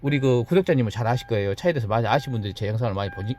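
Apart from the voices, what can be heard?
No distinct noise like a dog, phone or traffic.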